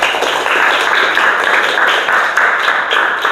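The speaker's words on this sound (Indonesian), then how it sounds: "Tepuk tangan untuk kelompok 1." A classroom of students claps together for a presenting group, a dense, steady burst of many hands at close range with no voices over it.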